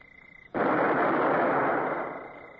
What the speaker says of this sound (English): Well, I believe we can open fire, Mr. Davy.